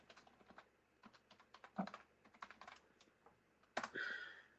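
Typing on a computer keyboard during a software product roadmap session: irregular bursts of close, crisp key clicks with short pauses, ending in a denser flurry of keystrokes.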